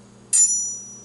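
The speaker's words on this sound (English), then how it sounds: "You hear that ring? Just coming out of the wood block." A kitchen knife drawn from a wood block gives a sudden bright metallic ring that sustains and slowly fades over the next half second, heard alone over a faint low hum.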